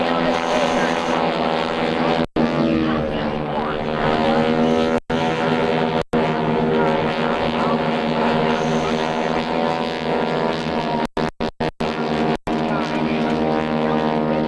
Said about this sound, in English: the team peels up into the maneuver intended by the World War I flying ace, Max Immelman